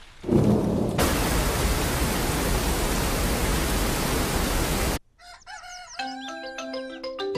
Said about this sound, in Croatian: Baš pada kiša